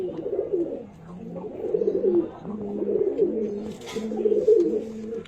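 Andhra fulshira pigeons cooing close by, repeated low rolling coos overlapping in a steady rhythm, with a brief faint rustle near the end and no speech.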